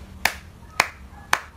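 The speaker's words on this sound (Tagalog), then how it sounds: "bigyan natin siya ng 3 palakpak" Three sharp, evenly spaced claps from a classroom during a demo teaching lesson, each a single crisp, close crack about half a second apart, with no talking.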